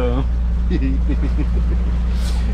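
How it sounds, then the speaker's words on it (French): A sailboat's motor drones with a steady low hum throughout, with a person speaking briefly over it near the start. "t'entends le moteur tourne toujours"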